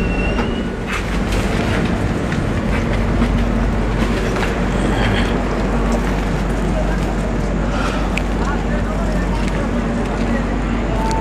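A train pulls into Khagraghat station with a loud, continuous rumble, clatter of wheels and scattered squeals, close by, while people talk underneath.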